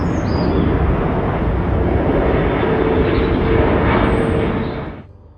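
A loud, steady roar of an airplane passing low overhead in Goussainville, near Paris, filling the air for about five seconds before cutting off abruptly.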